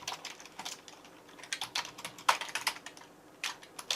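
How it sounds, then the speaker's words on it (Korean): Irregular bursts of keystrokes clatter on a computer keyboard, close and fairly quiet, with short pauses between runs of typing and no voices. "제가 타이핑을 할까요?"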